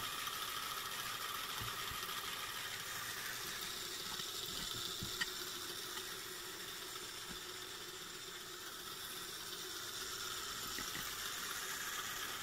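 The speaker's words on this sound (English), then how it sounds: "the steam engine." A small steam engine built from scrap metal runs steadily, giving a faint continuous mechanical whir and hiss with light ticking and rattling, no voices.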